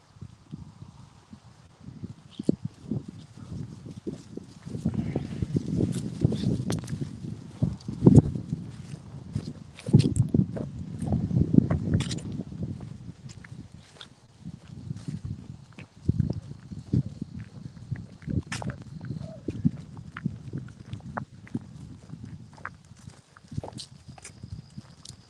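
A flock of sheep heading out from a barn on a farm, their hooves making many irregular, overlapping clip-clop steps and shuffles close by, rising and falling in busy waves over about 25 seconds, with faint rustling.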